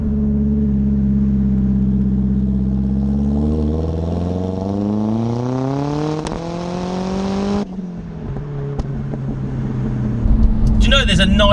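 A Ford Focus RS Mk1 pulls hard in second gear from around 3,000 rpm, the engine note climbing loudly and steadily before an abrupt lift and gear change, then settling and building again.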